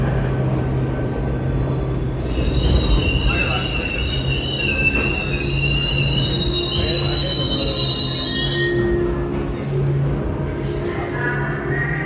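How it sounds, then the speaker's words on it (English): Older New York subway trains, about 40 years old, on the line at Times Square at midnight, grinding past with loud, sustained high-pitched wheel squeals that rise and shift before fading after several seconds over heavy rumbling. "These are some of the older trains on the line."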